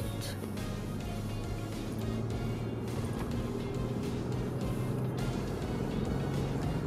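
A Toyota Land Cruiser cruises along a Danish road toward the Great Belt Bridge, its cabin filled with a steady low engine and tyre rumble under faint road noise, heard from inside.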